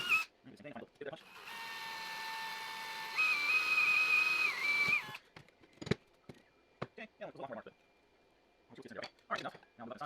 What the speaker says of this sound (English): We'll drill and then we'll cut.